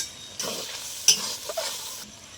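Cumin and coriander powder fry briefly in a pan for a vegetarian jackfruit biryani, giving a soft sizzle with a few quick stirring scrapes and clinks.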